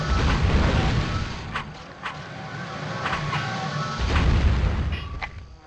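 A fire spell attack in the game Asheron's Call produces rumbling, booming whooshes with several sharp impact pops scattered over a continuous roar.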